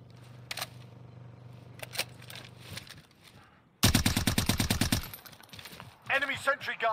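Automatic gunfire in the battle royale game Call of Duty: Warzone bursts in as a loud, rapid string of close shots lasting about a second, after quieter game sounds with a steady hum and scattered clicks, followed by more clattering action.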